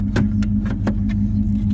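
Parking brake lever of a Mercury Comet being worked, a few short mechanical clicks and rattles close by over a steady low engine idle hum.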